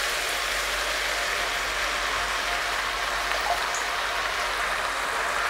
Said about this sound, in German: 500 Gramm passierte Tomaten.